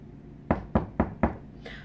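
Four evenly spaced, close and clear knocks on a door, like someone arriving in a Little Red Riding Hood story, with no voices.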